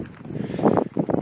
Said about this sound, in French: je pense que vous l'entendez, il y a du vent